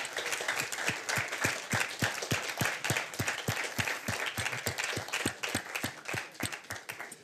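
An audience at an actor's masterclass in Lausanne applauds, with many hands clapping steadily and strong sharp claps standing out in a quick regular rhythm, sustained and moderately loud for several seconds.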